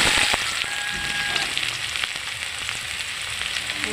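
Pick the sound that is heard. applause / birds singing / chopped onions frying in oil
chopped onions frying in oil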